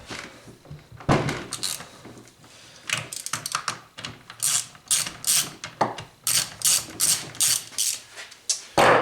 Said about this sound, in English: So the first thing we're going to do is pull this bar off. It's a 13mm socket.